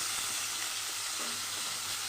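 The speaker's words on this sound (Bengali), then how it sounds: "বেশ লাল লাল করে আমি পটলটা ভেজে নেব।" Pointed gourd (potol) frying in a pan, a steady, dense sizzle throughout with no talking.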